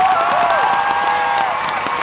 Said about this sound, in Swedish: extra stor applåd från Andreas Svensk